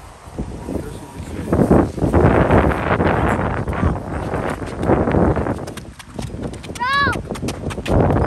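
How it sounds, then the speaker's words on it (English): Strong wind outdoors roars and buffets the microphone in loud, uneven gusts for the whole stretch, with a brief whistling tone near the end and faint voices in the background. "It's really windy outside."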